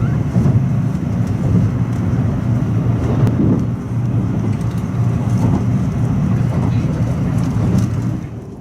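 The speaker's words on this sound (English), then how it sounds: "As the train hurtles through the metropolitan area of Tokyo" A constant low rumble of a Shinkansen bullet train running smoothly at high speed through Tokyo, heard from inside the carriage, steady throughout with no talking.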